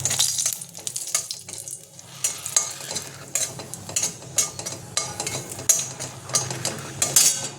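Two dried red chillies fry in oil in a wok after prawns, giving a soft continuous sizzle with repeated sharp crackles and spatters, close and fairly quiet with no speech.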